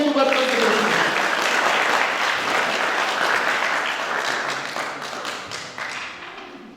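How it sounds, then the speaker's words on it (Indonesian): A congregation claps for Christ at an Easter celebration service, a full, close burst of applause that starts strong and gradually fades over several seconds. "Berikan tepuk tangan sekali buat Kristus."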